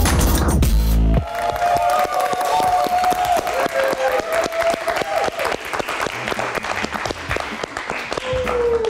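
A large studio audience at a live late-night talk show applauds steadily, dense continuous clapping that stays loud throughout after a brief burst at the start, with faint tonal sounds beneath.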